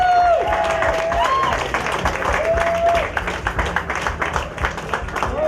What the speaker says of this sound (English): a nice round of applause for our third place finishers, Matt and Julie in Green Bay, Wisconsin